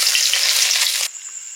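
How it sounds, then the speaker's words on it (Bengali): Small parshe fish frying in hot oil, a dense, loud sizzle that cuts off abruptly near the end, leaving only a faint hiss. "পরের মাছগুলো ভেজে নিই।"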